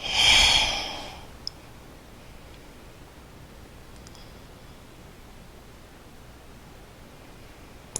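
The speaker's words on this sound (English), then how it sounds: "And take some deep breaths here." A slow, deep exhale during a beginner sunrise yoga session, one long breath at the start, then quiet room tone with a couple of faint clicks.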